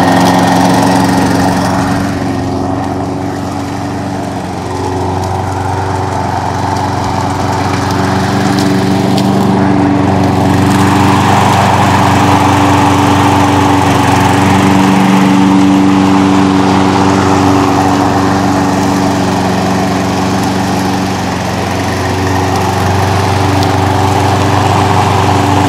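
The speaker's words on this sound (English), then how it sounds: "And now you're gonna start mowing." A hybrid remote-controlled lawn mower with a gas engine cuts grass, its motor droning loud and steady at close range throughout, with a constant mechanical hum and slight swells in pitch and no speech.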